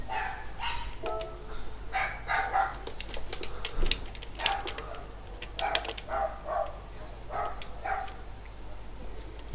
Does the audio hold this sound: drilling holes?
no